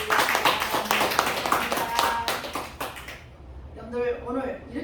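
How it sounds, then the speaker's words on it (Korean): Congregation in a church breaks into dense, loud applause for about three seconds, then it stops abruptly and a voice begins speaking. "우리를 구원하신 성삼위 하나님께 박수를 세우고 올려드리겠습니다."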